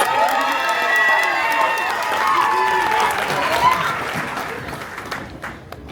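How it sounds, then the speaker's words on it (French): A crowd at a dance school anniversary show claps and cheers with excited shouts mixed in, the applause loud at first and then tapering off to scattered claps. "on applaudit Coach Jess"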